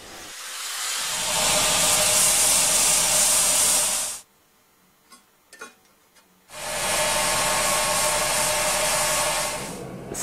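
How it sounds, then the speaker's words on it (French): A grinder takes down a Damascus steel blade in two long, loud, harsh grinding passes separated by a brief quieter pause with a few small knocks, heard close up and with no talking. "je vais en meuler les 2/3 pour arriver à une épaisseur générale"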